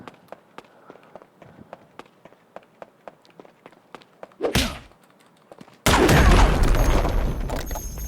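Enemies on a wall fire at the player in Disney Infinity 3.0, a series of sharp, regularly spaced shots followed by a whooshing burst and then a loud, sustained roar of blasts.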